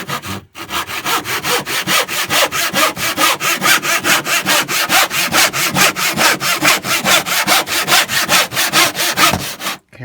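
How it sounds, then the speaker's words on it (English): A hand saw cuts off a wooden part for a phone holder, loud close rhythmic back-and-forth strokes at a steady brisk pace for about ten seconds, with no talk. "So I'm going to trim this off, Jake."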